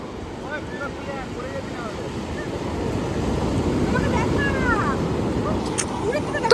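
Sea waves roll and wash on the beach at Puri, a steady broad rumble of surf swelling slightly louder midway, with wind buffeting the microphone and people talking and calling nearby.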